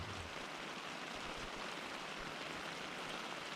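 Steady rain falling around a camera outdoors while camping in a tent, a dense, even hiss with no breaks, fairly close and alone without any talk.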